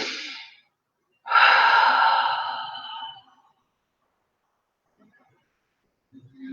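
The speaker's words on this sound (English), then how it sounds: "taking a deep breath in" One slow, deep breath is drawn in during a quiet guided energy meditation. The breath is soft, airy and close, rising over about two seconds and then fading into near silence.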